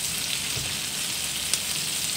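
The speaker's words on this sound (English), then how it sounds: "we're going to saute this until we caramelize those onions" Sliced mushrooms and onion sauteing in a pan with leftover beef fat and butter, a steady even sizzle close up with one faint tap, no voices.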